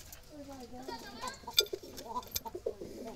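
Wild Jalali pigeons cooing at close range, soft repeated low coos with a few brief rustles, heard alongside faint voices.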